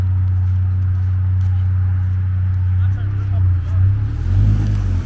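Second-generation Toyota Highlander spinning its tires and digging into snow, heard as a steady low engine drone that swells and shifts near the end, with voices faintly present.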